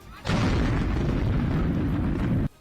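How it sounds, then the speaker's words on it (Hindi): A bomb blast on a seaside beach in Berdiansk, Ukraine, heard as a sudden loud roaring rumble that starts abruptly, holds steady for about two seconds, then cuts off. "यूक्रेन के बर्दियांस्क में अचानक हुए बम ब्लास्ट से दहशत मच गई।"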